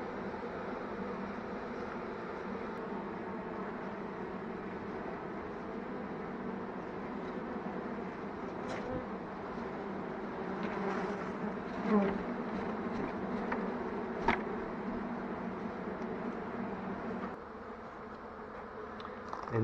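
A steady, dense buzz of a honeybee swarm inside a wall hums throughout, with a few brief knocks and a slight dip near the end.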